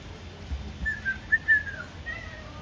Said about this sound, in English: Alright, something is whistling in here.